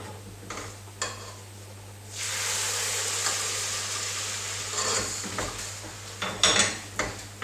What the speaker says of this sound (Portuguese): agora você precisa tomar muito cuidado para poder acrescentar o caldo que está quente na panela